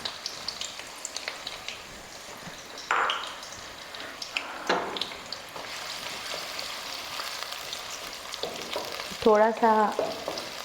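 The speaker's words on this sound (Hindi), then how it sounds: "ऑयल ले लिया मैंने, इसमें मैं डालूँगी प्याज" Chopped onions sizzle in hot oil in a pan for a mutton and potato curry, a steady close frying hiss with occasional stirring scrapes and clinks, and a brief spoken phrase.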